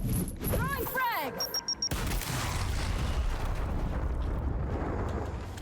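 A frag grenade blast in the tactical shooter Gears Tactics, a loud rumbling explosion that hits around two seconds in and rolls on as a long, dense roar, after a brief stretch of talk over game sounds.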